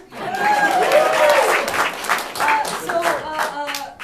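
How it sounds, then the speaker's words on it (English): Audience members at a local live show clap their hands for a few seconds, with cheers and voices mixed into the moderately loud, uneven applause. "So who here is from a place? Clap your hands"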